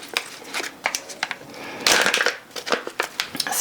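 Seasoning shaken and sprinkled over a beef bowl in a home kitchen, a series of short dry rattling bursts close by, with a denser scattering patter in the middle.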